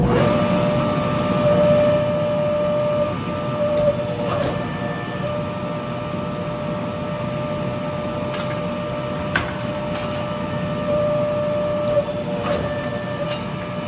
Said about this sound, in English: We're going to go ahead and give this a press ladder.